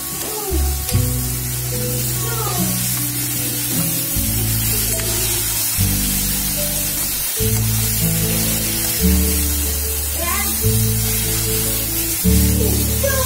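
Dried fish (sukat) frying in a pan with turmeric and spice masala for a Malvani dish, a loud, continuous hiss and sizzle with stirring scrapes and shifting pulses throughout, no talk.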